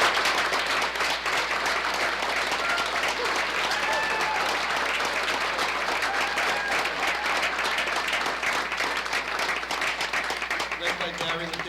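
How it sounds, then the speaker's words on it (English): An audience at a school committee event applauds community volunteers, a dense, sustained wash of clapping lasting several seconds with a few faint cheers mixed in. "Let's give them a round of applause"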